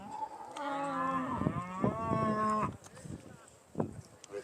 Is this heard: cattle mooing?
yes